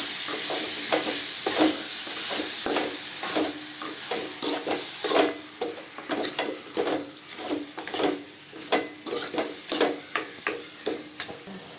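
Mutton kulambu with salt is stirred in a pan over a light sizzle, with repeated scraping strokes in an uneven rhythm close by.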